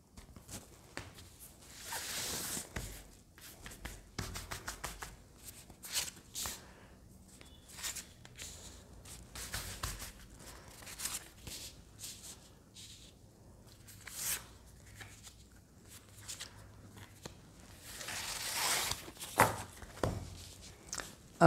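Tarot cards being shuffled and laid out during a reading, with close, soft rustling, flicks and taps in irregular bursts, louder swishing shuffles near the start and again toward the end.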